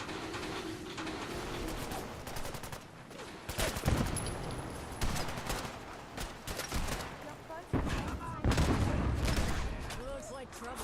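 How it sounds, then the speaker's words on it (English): Dense bursts of gunfire and repeated shots in a Fallout 4 battle, loud and close with crackling volleys throughout, while voices speak over the fighting. "It appears someone is shooting at us"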